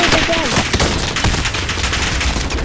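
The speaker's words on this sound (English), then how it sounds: "They're shooting at me." Enemy gunfire in a Call of Duty match: rapid bursts of automatic shots crackle loudly and continuously, with brief voice sounds near the start.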